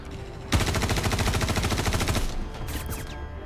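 Rapid automatic gunfire in a video game fight against a boss, a sustained burst of loud, evenly spaced shots lasting about two seconds, then fading game effects with no talk.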